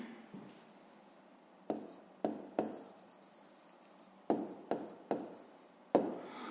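A pen writes on paper during a fifth-grade math lesson. Close, quiet scratches and taps come in short irregular strokes with soft pauses between them, and no one speaks.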